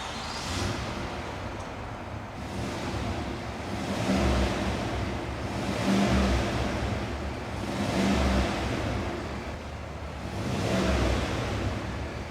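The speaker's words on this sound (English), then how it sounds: "So now it's time to listen up to the sound of this Cadillac ESV from the outside." A 2024 Cadillac Escalade ESV V8 heard from outside, revving in several slow swells that rise and fall about every two seconds, with wind rushing over the microphone.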